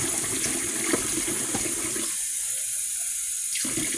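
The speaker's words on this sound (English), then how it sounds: "So let's fill up this water." Tap water runs steadily into a bathtub being filled for a bubble bath, a constant rushing hiss with a brief change in tone partway through and no talking.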